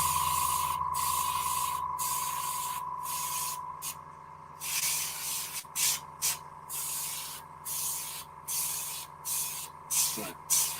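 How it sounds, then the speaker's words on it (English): Airbrush spraying paint onto leather in slow build-up layers, a steady hiss broken by short pauses and repeated bursts, with a faint tonal hum underneath. "I prefer an airbrush."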